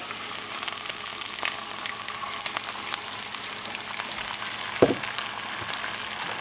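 Half and half hits a hot pan in brick chicken cooking and sizzles steadily and loudly throughout, with a brief clatter near the end and no one speaking.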